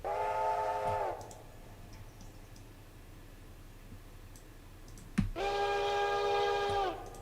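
A locomotive whistle in the modded train game Railroader sounds two long, loud, steady blasts a few seconds apart, with a low rail rumble in the quiet gap between them and no talking.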